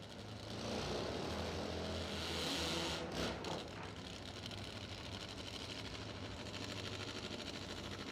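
Nitro-burning Top Fuel drag racing engines roar at a drag strip in southern Georgia. A muffled, distant-sounding drone holds steady for about eight seconds at a low level.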